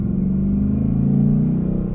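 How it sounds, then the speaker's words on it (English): A 2020 Ford Mustang Bullitt V8 rumbling in a parking garage, a loud deep steady engine drone with a slight swell in revs, echoing off concrete walls. "Maybe I'll open the windows again so we can enjoy the engine with the parking acoustics"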